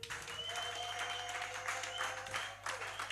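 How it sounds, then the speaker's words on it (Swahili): A congregation at a Sunday church service claps for Jesus in steady, sustained applause that fills the whole stretch, with sustained tones running underneath. "Pigieni Yesu makofi."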